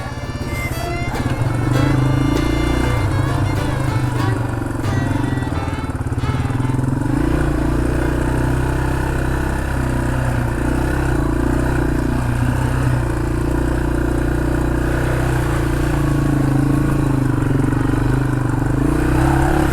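A Yamaha TW200 motorcycle being ridden on an adventure trail: a continuous loud engine drone with a steady low hum, brief clattering and revving early on, then a sustained even note close by.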